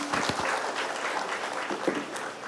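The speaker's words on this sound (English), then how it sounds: "So a big round of applause for our moderator and our panelist." An audience at a digital workforce management panel applauds the moderator and panelists, a dense crackle of many hands clapping together steadily for a couple of seconds.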